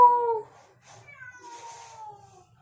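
A cat meows loudly up close, then gives a softer, drawn-out second meow that trails off quietly.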